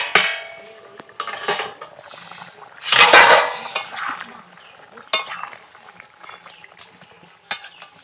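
Metal clatters and scrapes around a pot of curry as the lid comes off, with a loud clang partway through and several sharp knocks and stirring scrapes scattered among quieter gaps.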